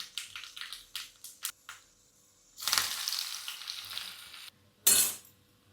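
Mustard seeds, dal, shallots and curry leaves hit hot oil for tempering a spinach dish: a burst of close clicks and taps, then a loud crackling sizzle for a couple of seconds, a pause, and another short sharp sizzle.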